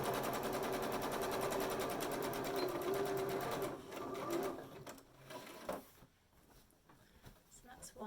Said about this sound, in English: I am going to backstitch on these ones because they're not going to be sewn into any edges.